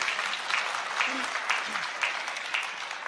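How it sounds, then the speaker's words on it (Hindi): Loud, dense applause from a large audience at a Hindi poetry recital, a steady wash of many hands clapping together for the full stretch. "एक बार जोरदार तालियां बजाकर बताइए कि आप मुझे सुन रहे हैं।"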